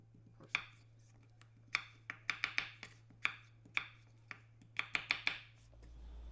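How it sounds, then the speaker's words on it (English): Knife chopping red potatoes on a cutting board: irregular sharp thuds, single and in quick clusters of three or four, close and fairly quiet over a steady low hum. "All right, potatoes are chopped"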